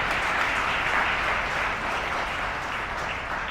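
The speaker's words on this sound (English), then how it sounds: "How about a round of applause for Mark and Justin?" Steady applause from an audience at a business signing event, a dense continuous wash of clapping at moderate level that holds evenly for a few seconds with no talk over it.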